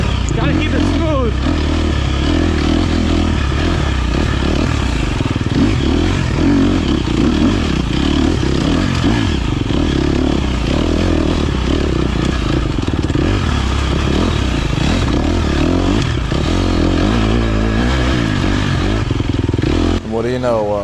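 An off-road motorcycle is ridden through a gnarly race section over slippery logs and up a hill, its engine loud and continuous with revving surges, clatter and scrapes throughout.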